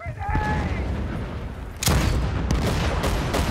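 Gunfire in the video game Battlefield 1943, dense bursts and booms filling the clip, with a sharp loud volley near the midpoint and more shots after, loud and close.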